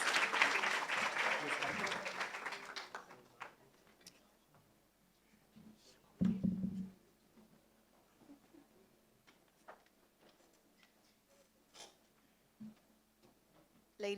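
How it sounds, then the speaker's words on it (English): Applause from an audience at a speaking event, a broadband clatter of many hands for about three seconds, then fading into scattered handling noises and clicks, with a short burst of sound midway. "A round of applause for Katlego,"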